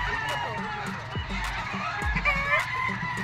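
Many gamefowl chickens and roosters cluck and call at once, a busy chorus of fowl with voices talking in the background.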